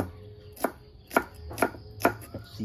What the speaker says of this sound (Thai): หั่นหอม